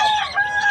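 A chicken hen at a busy pet market gives one brief, close, loud squawking call.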